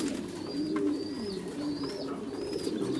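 Caged pigeons on a farm coo in low, steady, overlapping rolls, close and continuous, with a faint high whistle repeating in the background.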